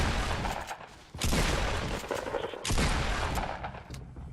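Rapid bursts of gunfire in the video game Fortnite, with two loud volleys close up separated by a short lull, continuous crackling shots and no voices.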